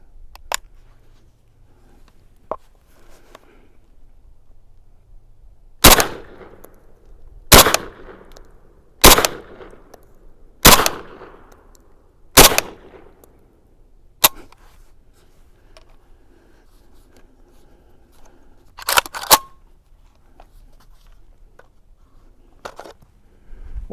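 A Saiga 410 semi-automatic shotgun fires a string of loud, sharp reports at regular intervals of about a second and a half, followed by a couple more shots after a pause, each with a brief echoing tail outdoors.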